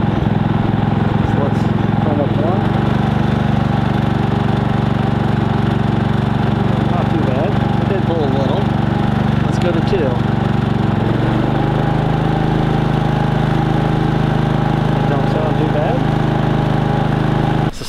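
A Harbor Freight 3500 generator converted to propane runs steadily in eco mode, a loud continuous engine drone whose pitch drops slightly partway through, close up with a voice speaking over it.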